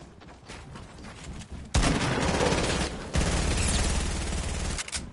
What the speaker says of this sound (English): I thought I had my AR out there and I accidentally took a hunting rifle shot